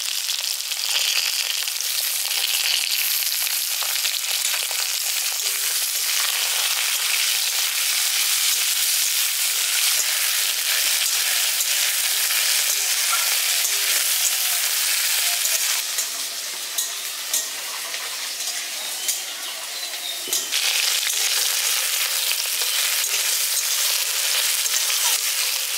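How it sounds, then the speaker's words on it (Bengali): Potato, drumstick and tomato pieces fry in hot oil in a pan, a loud, steady sizzle that carries on throughout with occasional stirring, briefly softening near the end. "এখানে আলুর সাথে দেখুন ডাঁটা, টমেটো সবগুলোকে আমি ভালো করে নাড়াচাড়া করে একটু ভাজা ভাজা করে নিচ্ছি।"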